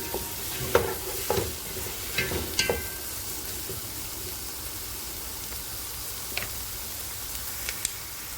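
Onions being stir-fried in a pan until brown for chicken biryani, a continuous soft sizzle with several sharp spatula scrapes and taps early on, then a few scattered clicks over the steady frying hiss.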